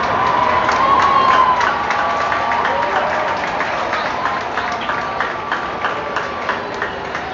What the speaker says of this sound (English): Fans, let's hear it for our dancers.